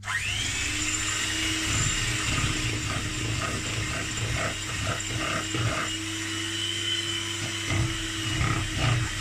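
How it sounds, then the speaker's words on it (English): An electric whisk beats eggs into cake batter for a raspberry and white chocolate cake, with a steady, loud motor whine and uneven rattling of the beaters against the bowl, heard close and alone. "Electric whisk. Beat in the eggs and just beat it."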